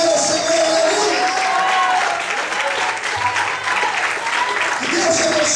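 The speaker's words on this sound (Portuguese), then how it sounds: "Vamos também aplaudir e glorificar o Senhor" Church congregation applauding and praising during a Portuguese-language evangelical service, a loud continuous wash of clapping and crowd voices with tonal cries and music-like sounds running through it.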